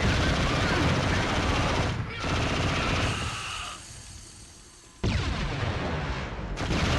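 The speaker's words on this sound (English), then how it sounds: "Use the MG! Quick!" Sustained, loud machine gun fire rattles in a first-person shooter video game, dense bursts running almost continuously with a brief break midway before the firing resumes at full intensity.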